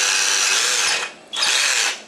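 A power drill whirs loudly and steadily for about a second, drilling into plaster, stops briefly, then spins up again for a second burst close by.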